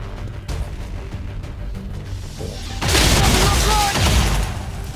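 Gunfire in a firefight in the tactical strategy game XCOM 2, a dense burst of loud shots and impacts erupting after a quieter stretch of game ambience, close and sustained.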